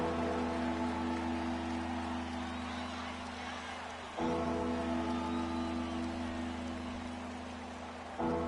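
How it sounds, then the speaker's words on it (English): Steady rain hisses throughout an American football video game between the Buccaneers and Giants, layered over a constant tonal stadium hum with brief breaks in the sound. "Charles, the forecast called for rain throughout the entire game, and we got rain throughout the entire game."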